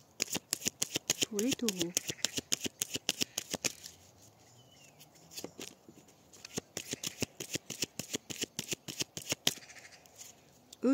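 A deck of tarot cards being cut and shuffled, a rapid run of sharp card riffles and slaps close up, with a short spoken phrase early and a brief pause midway.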